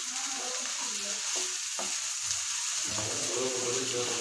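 Fried okra gets stirred into tomato gravy in hot oil, a close sizzle broken by scraping spoon strokes and a few utensil knocks, with no talking.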